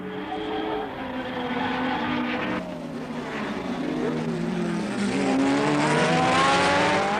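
Formula 1 race cars at the 1968 Mexican Grand Prix scream past at a distance, their high engine whine rising and falling in pitch as they pass, moderately loud.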